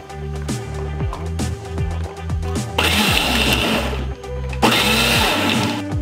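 A kitchen mixer grinds cinnamon, cloves, poppy seeds and fennel in short whirring pulses, its motor whine rising and falling, then surging into two louder, rougher bursts near the end.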